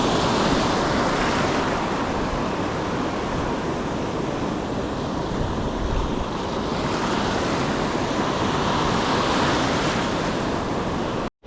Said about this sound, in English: I'm getting a lot of wind coming from here and pushing my line that way